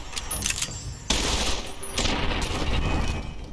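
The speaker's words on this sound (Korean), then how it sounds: "쉬운 사막 유충인데 왜 수류탄 터지는 소리가 나지?" In a survival video game, loud grenade-like blasts burst out, with a sudden broadband hit and a second surge that roll into dense, rattling rumble, close and filling the whole moment.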